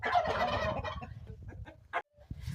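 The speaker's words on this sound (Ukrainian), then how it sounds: "То є такі, знаєте, півні, кугути, холєра з ними. Б'ються і все." Roosters squawk and cluck in an agitated scuffle up close, loud harsh calls at first, then scattered shorter cries.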